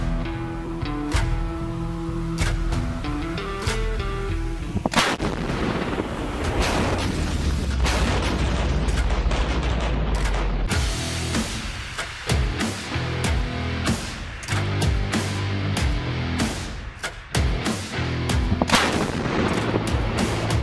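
An ATAGS towed artillery gun booms out in a rapid series of loud, deep blasts, some overlapping, with a rumbling, sustained roar beneath the repeated firing.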